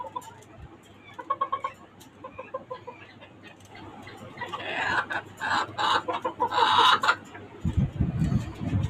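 Desi and tiger crossbreed chickens and a rooster on a small rooftop farm in Dhaka, giving short bursts of clucking and fowl calls over a steady background hum, with louder, busier activity toward the end.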